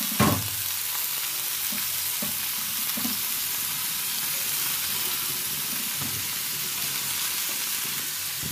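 Bitter gourd frying with onions in a pan, a continuous loud sizzle with occasional stirring knocks and scrapes, no voices.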